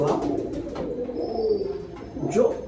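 Pigeons coo in soft, repeated low throaty calls, close by and moderately loud, with a few faint higher chirps and background noise mixed in.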